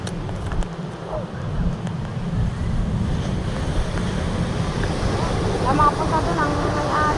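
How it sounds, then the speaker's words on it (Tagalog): Ocean waves wash onto a rainy shoreline in a continuous roar with heavy wind buffeting the microphone, and a voice speaks faintly underneath. "Nasalpa pa rin ang alon."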